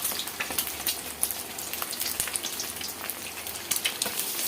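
Eggs frying in a pan for egg fried rice, a dense, close crackling sizzle with popping spatters and no talk.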